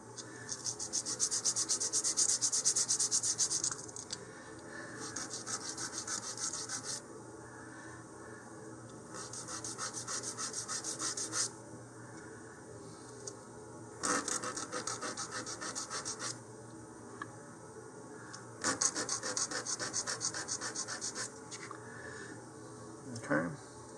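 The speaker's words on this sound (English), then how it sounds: "I'm just going to use some 150 grit sandpaper and just flatten that out" Repeated bursts of raspy rubbing as model rocket wood parts are hand-sanded with 150 grit sandpaper, strokes in short sessions separated by pauses, with a faint hum between.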